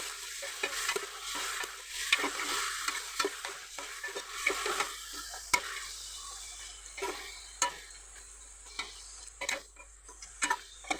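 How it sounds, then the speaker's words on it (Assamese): Half a kilo of broiler chicken is stirred with browned onions and bay leaf in a pan, with repeated sharp scrapes and clicks of a spoon over a quiet, low sizzle, close and without talk. "তাৰপিছত মই এয়া আধা কিলো ব্ৰইলাৰ মাংস ধুনীয়াকৈ মিক্স কৰি লৈছোঁ"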